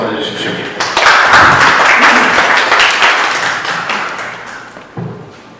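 A seminar audience at a Korean history education event applauds to welcome the first presenter, a loud, dense burst of clapping that swells quickly, holds, and tapers off.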